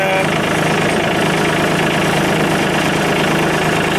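Tractor engine idling or running at steady revs while pulling a three-point-hitch chipper on a trailer, a loud, constant, rumbling drone with no break, close by.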